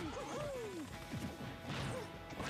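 Forward smash attacks land in a Super Smash Bros amiibo fight, sharp cracking hits arriving in quick succession amid swooping game effects and excited commentary.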